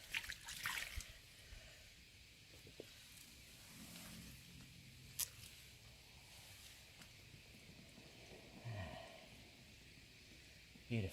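Water trickles and splashes over a freshly caught fish on a lakeside bank, a faint, uneven dribble with small splatters and soft rustling in the background.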